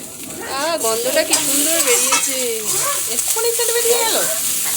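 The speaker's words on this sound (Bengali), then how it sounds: "কষাতেই থাকতে হবে বল নাড়তে হবে সবসময়" A pan of egg curry being stirred and fried with a spatula hisses and sizzles up close, while someone talks steadily over the cooking noise.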